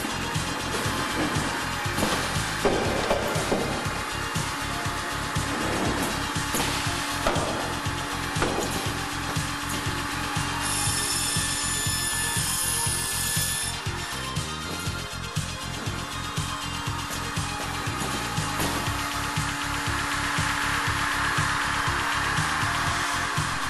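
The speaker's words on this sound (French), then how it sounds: "La scie à 4 axes permet de réaliser automatiquement des coupes de chevron, de rétrécissement et de séparation" A Hundegger automatic four-axis saw cuts timber in a carpentry workshop in Glovelier, making rafter, narrowing and separating cuts. Loud, close and continuous, it gives a steady mechanical whir with grinding, rasping wood-cutting noise throughout.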